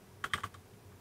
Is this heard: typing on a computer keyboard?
yes